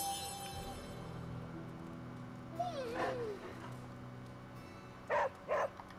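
A puppy in the video game Marvel's Midnight Suns gives a whining whimper followed by two short yelps near the end, quiet against a steady game background hum.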